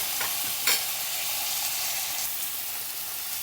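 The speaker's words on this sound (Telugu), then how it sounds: "టొమాటోస్ కూడా వేసేసుకుంటున్నాను" Tomatoes hit hot oil in a frying pan while preparing a broad beans masala curry, giving a loud, steady sizzle with a brief stirring clatter near the start, close and with no voices.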